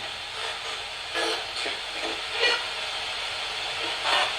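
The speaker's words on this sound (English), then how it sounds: "Train." A train passing near a farm in Walton, Kentucky, heard as a steady hissing rumble with rising and falling surges of noise over several seconds; moderately distant and fairly quiet, with no talking.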